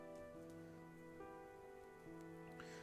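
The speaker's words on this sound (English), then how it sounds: "listening to the patters of the rain against our little tent" Rain pattering against a small tent in a video game, a soft, steady drizzle heard faintly beneath a sustained musical drone.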